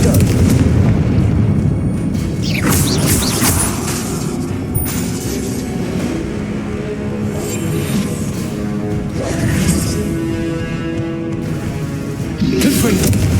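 Repeated Confringo fire-spell blasts from Hogwarts Legacy, a steady barrage of booming explosions and crackling bursts over dense game sound, with a sharp hit near four seconds and another swell near the end.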